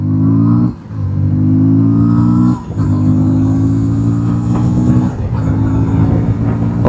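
Engine of a 160cc sports motorcycle ridden through traffic, a steady close mid-pitched drone with two brief throttle dips and recoveries as the rider slips the clutch.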